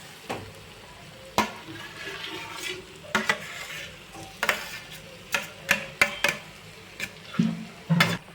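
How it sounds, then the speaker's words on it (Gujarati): Mashed potatoes with spices for a Mumbai-style vada pav filling are stirred in a pan, with a spoon knocking and scraping in a series of distinct, uneven strokes over a soft background hiss. "હવે આપણે મેશ કરેલા બટેકા એડ કરી દઈશું હવે આપણે બધું મિક્સ કરી લઈશું"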